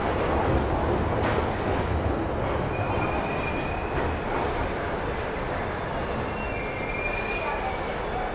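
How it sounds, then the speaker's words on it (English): An underground train rumbles steadily past with a broad roar, faint metallic squeals of the wheels and brief hisses near the end. "That's underground train."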